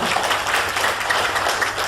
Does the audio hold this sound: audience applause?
yes